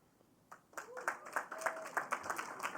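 A small group at a conference closing plenary claps, starting sparse then settling into steady applause of moderate volume for a couple of seconds, with a faint voice underneath.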